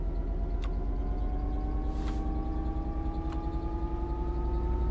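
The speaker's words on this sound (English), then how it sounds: "Hopefully you should be able to hear the engine a bit more now as well." A Class 66 diesel locomotive engine in the Train Sim World 5 game drones at steady throttle, a low continuous rumble with sustained tonal hum and a couple of faint short clicks, no speech.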